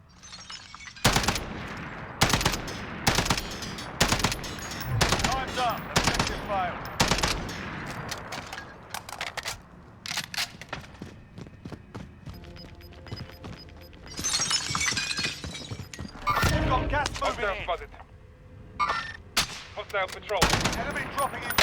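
Burst-fire FAL rifle in Call of Duty: Warzone, loud sharp gunshots in rapid clusters of several rounds separated by short pauses, with some glassy crashing and impact sounds mixed in.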